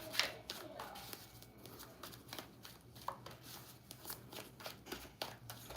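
Tarot cards being shuffled by hand, a steady run of soft riffling taps and flutters close by with a few sharper snaps, quiet and continuous throughout.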